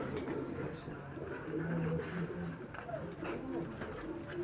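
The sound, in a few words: Sialkoti pigeons cooing on a rooftop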